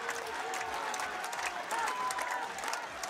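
A crowd cheers for Denmark at a France versus Denmark fencing match, sustained applause and shouting filling the space evenly and moderately loud throughout.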